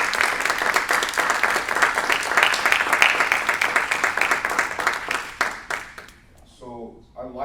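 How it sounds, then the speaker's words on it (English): Warm audience applause for the Cuba family, many hands clapping in a lively, close burst that thins and fades after about six seconds, followed by a speaking voice. "Can we give a round of applause for the Cuba family?"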